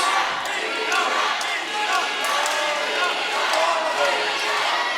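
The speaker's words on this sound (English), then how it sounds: "Crowd coming alive here in the Scottish Rite Temple for Minna Grusander" An arena crowd at an MMA fight in the Scottish Rite Temple roars steadily and loudly, a dense wash of cheering and shouting that swells slightly, with a commentator's voice over it.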